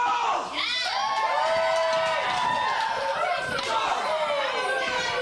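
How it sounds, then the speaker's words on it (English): A loud crowd at a professional lacrosse game cheers and shouts continuously, with whoops and yells rising and falling under a commentator's voice. "And really starting to get the crowd into it here,"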